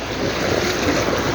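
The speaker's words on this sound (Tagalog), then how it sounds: "Iwan ang motor, lusong ang baha." Floodwater churns and sloshes as someone wades through a flooded street junction in Cainta, Rizal, a steady close rushing wash with no voices over it.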